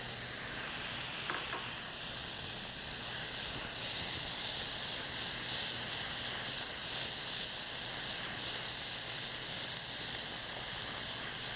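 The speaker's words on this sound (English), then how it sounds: "We want to get this spinach wilted." Spinach wilts in a hot pan for a pasta bake, giving a steady, close sizzle and hiss of frying that stays even throughout with little variation.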